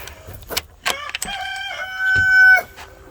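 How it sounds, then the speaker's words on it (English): A rooster crows near a homestead chicken coop, a loud close cock-a-doodle-doo with rising and sustained tones, preceded by a few short clucks and clatters. "See, we have some chickens in here."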